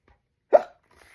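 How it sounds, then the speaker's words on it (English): A cartoon skeleton gives a single short, sharp hiccup, a quick vocal hic that stands alone in near silence. "The hiccups stayed."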